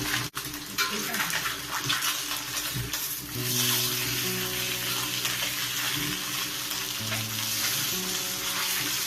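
Steady, loud sizzling of marinated fish slices frying in hot oil in a wok, continuous throughout with occasional clinks of the pan.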